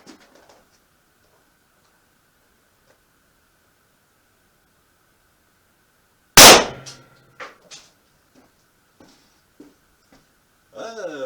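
An Ekol Botan blank pistol fires a single loud, sharp shot with a 9mm plastic bullet tip, a sudden close crack after near silence, followed by faint echoes, small clicks and brief sounds at the end.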